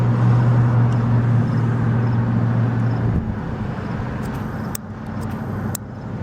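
Road traffic rumbles past a street crossing, a steady low vehicle drone that eases partway through, with a few sharp clicks and knocks near the end.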